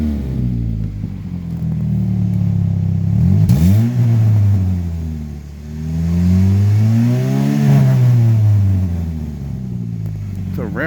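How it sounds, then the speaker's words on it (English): A 2007 Chevy HHR engine idles and then revs up in two or three swelling pulls, each climbing and falling back, with a fairly quiet but rowdy exhaust note heard up close. "we'll do the obligatory 3 revs for Dale"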